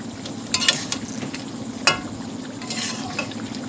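Chicken fries with fenugreek in a pan, a soft sizzle under several sharp scrapes and clinks of a spoon stirring against the metal, irregular and close.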